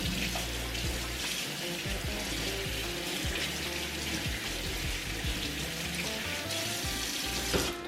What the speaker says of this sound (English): I just rinse it real quick